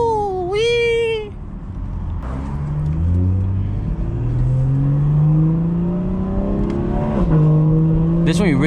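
A motorcycle in the GTA video game revs hard and climbs through the gears, its engine note sweeping upward in long rising pulls, loud and close, with a brief high whine at the start and a voice over parts of it.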